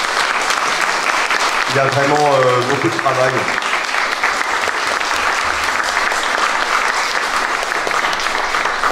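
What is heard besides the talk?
audience applauding the singers at a chapel pardon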